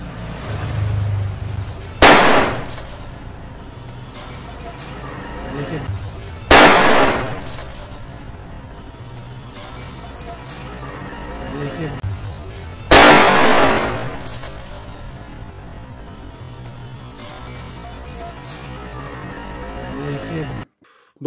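Toy World War pistol firing cork caps, three sharp, loud cracks spaced several seconds apart, each ringing out briefly over a steady background hiss.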